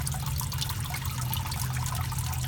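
Water flowing steadily back into an aquarium sump, a continuous close rushing and trickling that stays even throughout.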